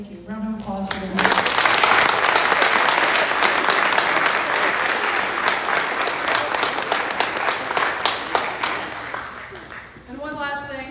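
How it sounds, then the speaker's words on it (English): An audience at a high school senior awards night breaks into loud, sustained applause lasting several seconds, with a speaker's voice just before and after. "Round of applause for them."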